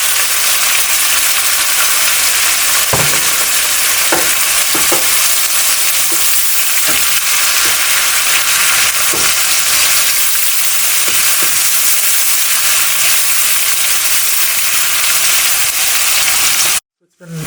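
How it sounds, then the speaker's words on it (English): Garlic and ginger paste sautéing with onions in a pan for mutton liver curry, a steady loud sizzle and fry hiss with occasional stirring scrapes and clinks, cutting off abruptly at the end. "more minutes that we have been sauteing our garlic and ginger"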